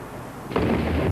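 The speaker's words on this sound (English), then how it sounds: "But a devastating explosion at the building quickly draws the agents into a web of intrigue." An office building blows up in a movie scene: a sudden loud, broad blast lasting about half a second, heavy low rumble and roar, cutting off sharply after a quieter lead-in.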